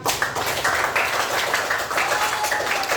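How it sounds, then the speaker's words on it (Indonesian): Children in a classroom clapping together, a dense burst of close, rapid hand claps that continues steadily for a few seconds. "tepuk tangan"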